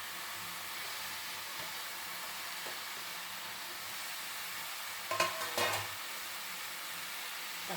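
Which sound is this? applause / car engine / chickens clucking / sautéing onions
sautéing onions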